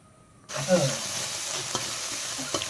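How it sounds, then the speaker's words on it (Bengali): Ground ginger and cumin paste hits hot oil in a wok with bay leaf, chilli and five-spice, for a banana flower curry. The pan is quiet, then a sudden loud, close sizzle erupts and keeps hissing with a few sharp pops. "আমি আদা আর জিরে বাটাটা ঢেলে দিলাম তেলের ওপরে"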